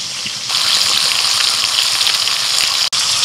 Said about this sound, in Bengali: ওই জন্য এখানে উনান জেলেও মাছটা ভাজতে বসেছে